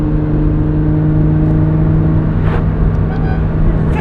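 A Lamborghini Murcielago runs from inside the cabin, a steady droning engine note with strong low harmonics holding constant, loud and close, with a couple of faint clicks over the top.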